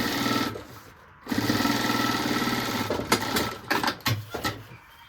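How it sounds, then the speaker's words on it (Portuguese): A sewing machine stitches a seam on a necessaire with a strap, whirring in fast steady bursts. It pauses briefly, then runs again and ends with shorter stop-start runs for the backstitch, close and loud. "Agora, você pode fazer uma costurinha, ó, de 1 centímetro."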